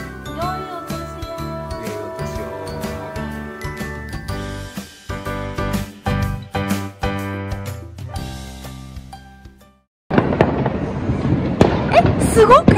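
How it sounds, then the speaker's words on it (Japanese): Fireworks launched all over town at a New Year celebration in rural Thailand, repeated pops and crackling bursts of varying distance, joined later by a dense noisy crackle; no talk. "街全体で上げてる花火を。"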